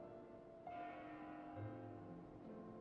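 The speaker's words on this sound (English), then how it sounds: "That bell sound must be coming from somewhere." Bell ringing in the video game Xenoblade Chronicles 2, a faint sustained tolling tone with a long resonant hum and swelling overtones, heard alone against quiet ambience.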